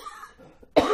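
A single sharp cough from a man in a lecture setting bursts out near the end after a quiet moment.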